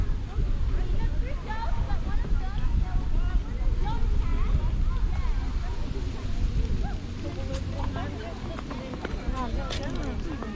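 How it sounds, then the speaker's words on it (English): Strong afternoon wind buffeting the microphone outdoors on a cycling ride, a loud continuous roar and rumble with gusty low-end pulses throughout. "it is quite windy this afternoon"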